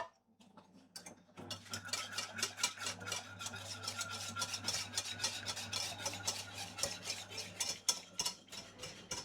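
A whisk beats quickly in a bowl, a rapid, steady run of light ticking clicks that starts after a second of near silence and keeps going to the end, close and fairly quiet.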